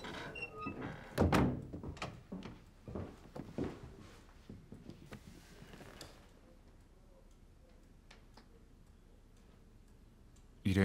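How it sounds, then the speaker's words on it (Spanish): A door is closed in a scene from a Spanish-language action adventure film, with a cluster of close wooden thunks, clicks and shuffling steps, then a quiet stretch with faint ticks before a sudden loud knock at the end. "Cierra la puerta."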